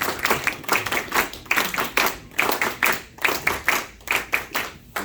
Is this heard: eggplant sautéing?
no